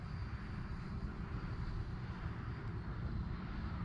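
Fly Fans Red Falcon K-8 RC jet flying on its maiden flight, a steady, continuous whine and rush that holds at moderate level throughout, with outdoor wind noise mixed in and no talk.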